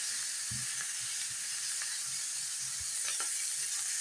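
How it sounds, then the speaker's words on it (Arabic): Half a kilo of sausage sizzling in a hot pan as it is stir-fried, a continuous bright crackling hiss with occasional soft pops and scraping stirs, close and steady, with no talking. "نص كيلو سجق وعلى الطاسة، تشويحة حلوة كده"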